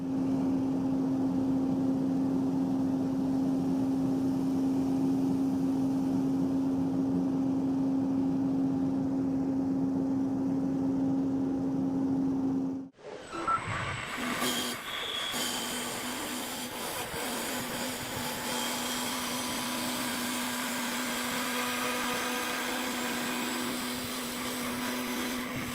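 A garden leaf blower runs steadily and loud for about thirteen seconds with a constant droning whine, then cuts abruptly; a different rougher machine rumble and scraping take over afterward.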